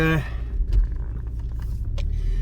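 A turbocharged car drives at 12 psi of boost, giving a close, steady low engine rumble throughout the short stretch.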